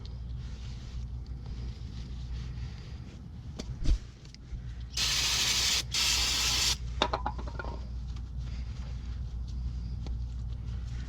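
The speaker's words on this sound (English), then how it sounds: "We're going to clean both of these slide pins up." Cleaner is sprayed onto the brake caliper slide pins of a Ford Transit Connect during a brake pad and rotor job, two close hissing bursts against a low background rumble.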